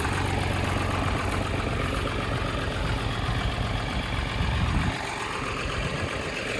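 A nine-year-old tractor engine idles nearby with a loud, steady low rumble that eases slightly toward the end.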